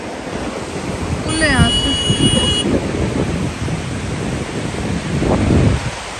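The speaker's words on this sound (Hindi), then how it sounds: "जाते टाइम हवा चल रही है" Wind blowing steadily outdoors during a family picnic, a broad rushing roar that persists throughout, with someone talking over it and a brief whistle-like tone early on.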